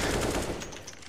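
Burst of gunfire in a video game, loud and dense rapid shots packed into about a second, fading slightly toward the end with no talk.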